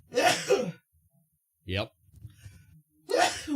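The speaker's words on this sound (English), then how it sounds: "Oh, sneeze." A person sneezes twice, a few seconds apart. Both sneezes are sharp and close, with a brief spoken word and a soft breath in the quiet gap between them.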